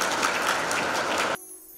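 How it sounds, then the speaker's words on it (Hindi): Audience applause on a television talent show's grand finale, dense steady clapping that cuts off abruptly, leaving a faint hum. "नवदीप सिंह जोरदार तालियां बजाओ"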